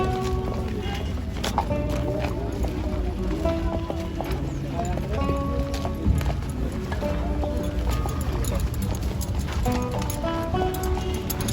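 Hooves clip-clop steadily from horses and stallions at the Muktsar Maghi Mela horse fair in Punjab, heard amid a busy outdoor crowd with people talking nearby.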